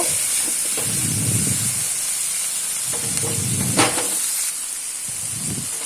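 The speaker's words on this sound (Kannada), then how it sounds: "ಹಸಿಮೆಣಸಿನಕಾಯಿ ಫ್ರೈ ಆದಮೇಲೆ ಒಂದು ಟೊಮೆಟೊ ಹಾಕ್ತಾಯಿದ್ದೀನಿ ಇಲ್ಲಿ ಟೊಮೆಟೊನ ಒಂದು ಸ್ವಲ್ಪ ಫ್ರೈ ಆಗಬೇಕು" Tomato frying with green chillies and onion in a pan for a North Karnataka chavalikai palya, a constant close hiss and sizzle with a few soft stirring knocks, no talking.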